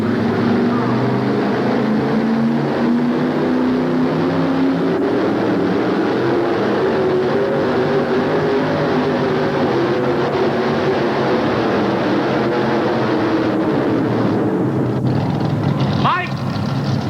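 Pulling tractor engine roars continuously at full power during a tractor pull on a dirt track in Birmingham, loud and sustained with rising pitch throughout, with an announcer talking over it.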